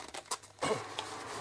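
Crinkly plastic wrapper of a fruit-flavour ice lolly torn open by hand, a few short rustles and tearing bursts, close and fairly quiet, with no voices.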